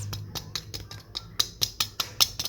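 Sharp, dry crunches of toasted bread for caramel bread pudding repeat about a dozen times in an uneven rhythm, close and crisp, with no talking.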